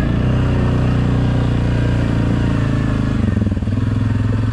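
An ATV engine drones loud and steady as it rides an off-road trail through fall woods in Leota, Michigan, with some rattling clatter and a brief rough pulse near the end, no talking.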